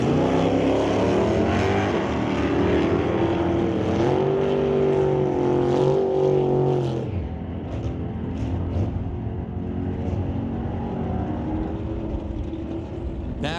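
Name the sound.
79 Impala with 454 big block Chevy engine drag racing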